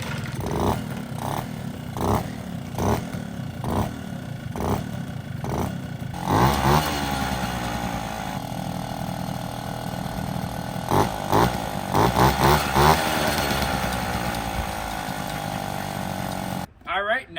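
A Puch Maxi moped engine being started: a rhythmic pedaling or kick-start chug, then the small two-stroke catches and buzzes steadily at idle with a few rev blips, close and loud, with a voice talking over it.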